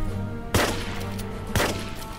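Morita rifle with a shotgun attachment in Starship Troopers: two loud, sharp blasts about a second apart, each a broad crack with a short tail, over a low steady background hum.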